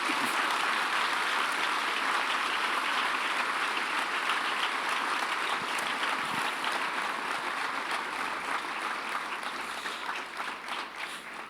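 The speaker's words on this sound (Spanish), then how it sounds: "Dale un aplauso fuerte al Señor" A church congregation applauding the Lord, dense sustained clapping from a large crowd that fills the space, steady and loud before easing slightly toward the end, with no talk over it.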